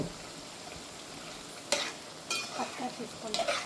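Chicken with turmeric sizzles in a pan while a spatula stirs it, steady low frying with a few sharp scraping strokes toward the end, close and without voices.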